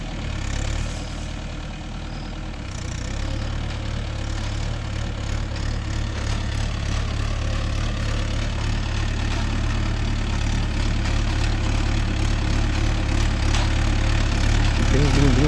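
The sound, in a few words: Mahindra Yuvo Tech Plus 585 4WD tractor engine with spring cultivator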